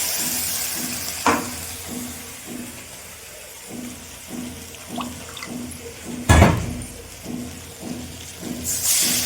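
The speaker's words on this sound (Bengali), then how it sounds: "বাটিটা ধুয়ে আমি একটু জল দিয়ে দিলাম।" Water runs and splashes while a bowl is rinsed at a kitchen sink during Bengali home cooking of an egg curry with eggplant and cauliflower, a steady tap flow with a louder splash midway, no talking.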